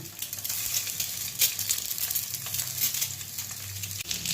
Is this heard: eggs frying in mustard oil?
yes